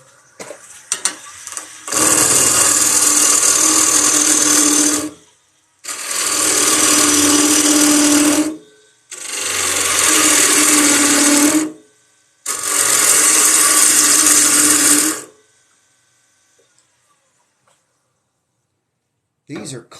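Bowl gouge on a wood lathe cutting straight across the grain, four loud, sustained rasping passes of about three seconds each, separated by short pauses.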